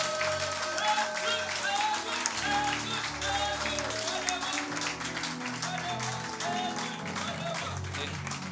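A church congregation claps and cheers for Jesus, sustained applause over loud worship music, with voices mixed in throughout.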